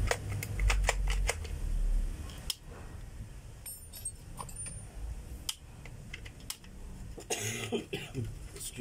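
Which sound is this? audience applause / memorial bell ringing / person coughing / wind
person coughing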